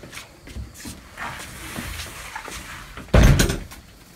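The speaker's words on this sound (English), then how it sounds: "shut this door right quick." Door pushed shut in a house during a commotion over a bird indoors, light shuffling and handling noises followed by one solid, loud thud as it closes.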